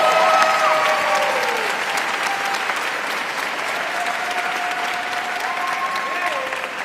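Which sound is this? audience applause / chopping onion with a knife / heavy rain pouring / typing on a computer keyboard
audience applause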